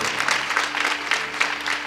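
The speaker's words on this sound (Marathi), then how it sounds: "श्री महाराजांना दंडवत करता आपण जोरदार टाळी वाजूया" An audience at a Marathi kirtan claps steadily together, a dense, moderately loud burst of applause with a low hum beneath it.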